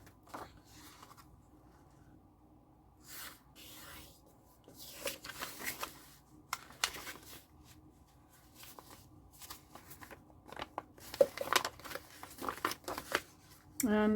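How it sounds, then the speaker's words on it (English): Paper collage pieces are trimmed with scissors in steady bursts of snipping and rustling, close and fairly quiet, with light handling noise between cuts. "I'll have to cut this down just a little bit."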